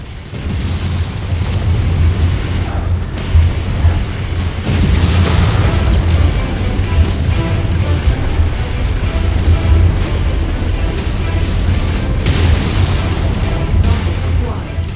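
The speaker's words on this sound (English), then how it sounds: "Enemy mech destroyed!" Heavy explosions boom from a destroyed enemy mech in the MechWarrior 5: Mercenaries video game, a loud sustained rumble of blasts and pops with game effects and radio-style voice callouts layered over it.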